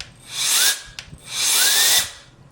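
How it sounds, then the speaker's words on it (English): Two bursts of a dental air syringe blowing on a hand-polished veneer, each a steady hiss lasting under a second with a brief pause between, close and fairly loud. "I'm gonna go ahead and dry it."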